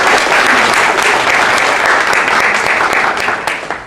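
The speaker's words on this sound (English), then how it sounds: "can we just give a round of applause?" A loud round of applause from an audience at a National Library business talk on venturing opportunities in India, full and steady before gradually thinning out at the end.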